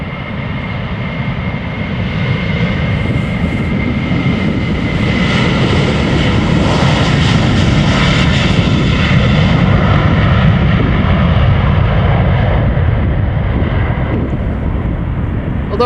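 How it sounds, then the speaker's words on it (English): A KLM Airbus A330-200 jet departing Amsterdam Schiphol Airport roars loudly and close by, its engine noise swelling into a broad, steady rush with wind buffeting the microphone. "This is KLM Flight 681 going to Vancouver, Canada. A330-200."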